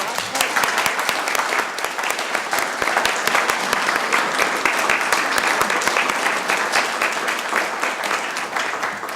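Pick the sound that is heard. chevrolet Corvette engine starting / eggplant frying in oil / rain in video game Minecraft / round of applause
round of applause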